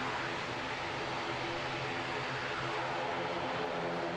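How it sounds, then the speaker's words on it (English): An ATR turboprop at full power gives off a steady, fairly distant propeller drone with a broad rushing hiss, unbroken for the whole stretch and with no talk over it. "And this ATR, look at this, guys, with full noise."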